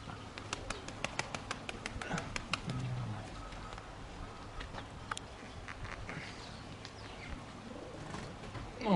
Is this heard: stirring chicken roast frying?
no